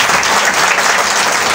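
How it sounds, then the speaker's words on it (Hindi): An audience at a beautician seminar bursts into dense, steady applause, loud and continuous throughout this brief burst with no voices over it. "तो तालियां बड़ी जबरदस्त होनी चाहिए।"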